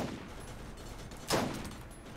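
In the Borderlands video game, a player fires at a turret while missing the shots. Muffled gunfire and battle noise run throughout, with one sharp, loud shot standing out midway.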